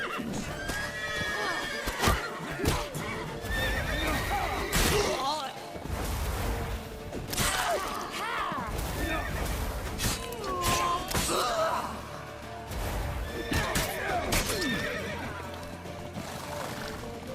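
Horses in The Witcher video game whinny and snort repeatedly over clattering hooves and chaotic action noise during a chase, with loud, dense bursts throughout.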